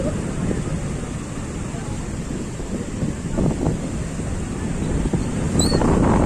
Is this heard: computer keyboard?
no